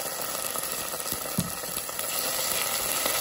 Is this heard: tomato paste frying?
yes